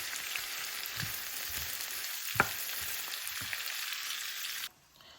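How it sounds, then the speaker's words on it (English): Onions frying on low-medium heat sizzle steadily in a pan, with a few soft stirring scrapes and one sharp clack near the middle, alone and without talk, before the sizzle cuts out abruptly near the end. "I'm going to give the onions a stir to avoid it or to prevent it from burning"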